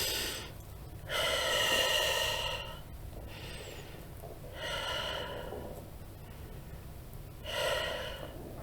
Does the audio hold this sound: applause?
no